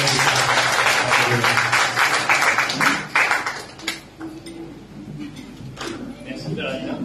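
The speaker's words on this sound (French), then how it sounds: "Acclamons le roi de l'Église." A church congregation at a Sunday service breaks into loud, sustained applause that thins out after a few seconds, with a voice speaking over the fading claps.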